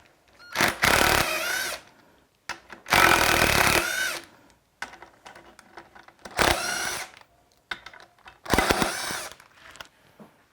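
A power tool spins out 12 millimeter bolts from the front cover of an RB26 DETT short block, four separate loud whirring bursts of a couple of seconds each with quiet gaps and small clicks between.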